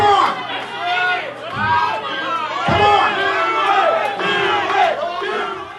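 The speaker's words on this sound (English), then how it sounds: "Do it, do it, do it, yells the crowd at Dave Vaughn." A wrestling crowd at an SICW show yells and chants in a dense, loud roar of voices, with rhythmic surges of shouting rising and falling throughout.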